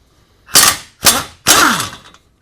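Three sharp, loud bursts of an impact wrench or tool loosening a control arm bolt on a 2002-06 MINI Cooper, each rattling a moment before stopping, with no talk.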